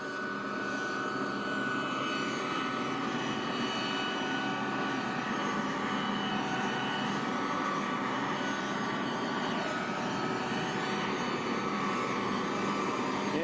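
A presidential airplane rolls up on the tarmac with a loud, steady jet engine roar and whine, sounding close and continuous throughout, with no speech.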